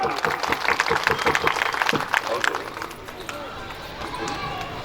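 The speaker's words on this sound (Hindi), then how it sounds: "एक बार सबके लिए जोरदार ताली।" A crowd claps at a Bhagwat Katha religious gathering, dense and loud for the first couple of seconds, then fading into scattered applause under voices and background noise.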